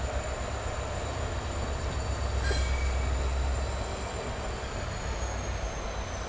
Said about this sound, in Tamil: ட்ரெயின் இப்போ பார்த்தீங்கன்னா ஆன் டைமில் மைசூர் ஜங்ஷனுக்குள்ளே என்ட்ரி ஆகிட்டு இருக்குங்க